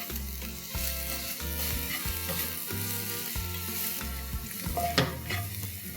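Finely chopped onions sauté in hot oil in a pan, a steady close sizzle with regular stirring scrapes, no voices.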